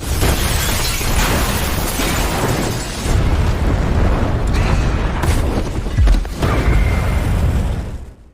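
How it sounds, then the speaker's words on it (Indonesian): A bomb goes off in a film scene: a loud, sustained blast and rumble with crackling debris, followed by further booms and bursts over several seconds. "karena ledakan itu"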